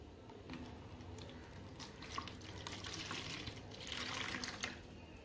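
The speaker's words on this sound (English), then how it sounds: "Take a water bath and fill it with some water." Water pouring into a water bath tray for a school science experiment, a quiet, steady splashing trickle that swells louder toward the end, with no talking.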